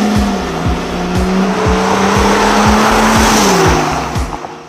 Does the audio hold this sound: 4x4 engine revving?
yes